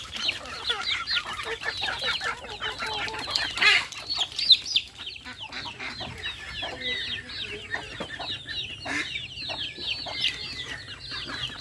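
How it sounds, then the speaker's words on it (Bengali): Village hens and ducks, let out and fed in the morning, cluck and chatter in a busy, continuous chorus at moderate distance, with no one speaking. "এই যে আমার বোনের কিছু হাঁস মুরগি দেখেন সকালবেলা ছাড়া হয়েছে, খাবার দেওয়া হয়েছে।"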